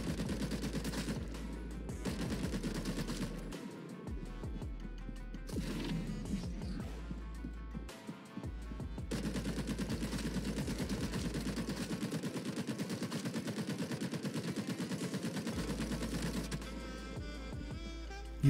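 Machine gun fire in the Caliber video game comes in repeated bursts of rapid shots separated by short pauses, loud and continuous, with game effects underneath.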